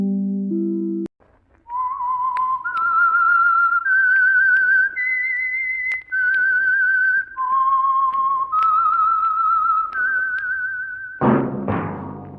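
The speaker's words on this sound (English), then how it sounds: "that whistle is your signal for the Signal Oil program" A clear whistled melody of long sustained notes, stepping up and down in pitch, plays alone as the Signal Oil program's radio signal tune on NBC, and ends with a short burst of noise.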